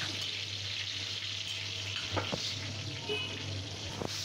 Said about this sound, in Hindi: इसकी कर लेंगे भुनाई, टमाटर को सॉफ्ट कर लेंगे अच्छे से।